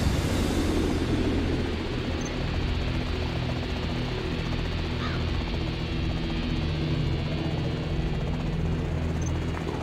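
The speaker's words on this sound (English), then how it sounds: "Stealth fighter ready for flyby." A stealth fighter jet sweeps past in the strategy video game Command & Conquer: Generals, a loud broad whoosh that starts strong and settles into a steady roar with no speech over it.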